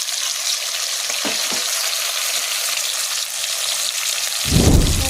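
Hilsa fish fries in a pan with a steady, loud, rain-like sizzle, and a paste of black and white mustard, green chilli and salt goes in near the end with a thick, bubbling surge of spitting.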